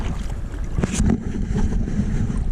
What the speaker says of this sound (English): So we got our kayak and we're paddling out to the canyon.